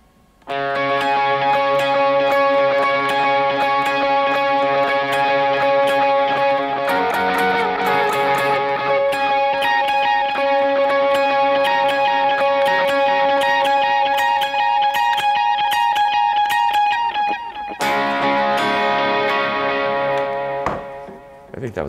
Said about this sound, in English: So with the delay on, the full lead sounds something like this.